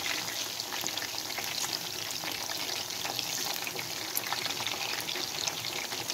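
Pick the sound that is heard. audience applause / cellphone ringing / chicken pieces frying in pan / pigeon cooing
chicken pieces frying in pan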